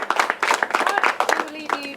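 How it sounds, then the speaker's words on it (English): Applause for athletes at an outdoor event in Ibiza, a small group clapping in quick, uneven bursts, close by, with voices and cheering mixed in. "Massive round of applause for our athletes."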